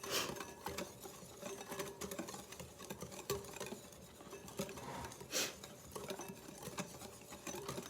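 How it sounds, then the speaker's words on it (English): Pancake batter ingredients such as flour and baking powder are whisked in a bowl, making a quiet, steady rhythmic tapping and swishing that goes on throughout with no speech. "I'm going to whisk that around"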